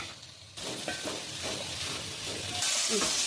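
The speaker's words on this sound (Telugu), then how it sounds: "ఇలా ఫ్రై చేసుకోవాలండి." Vegetables with tomato, coriander, mint and curry leaves fry for veg biryani in a steady close sizzle, with occasional stirring clatter that grows louder toward the end and no talking.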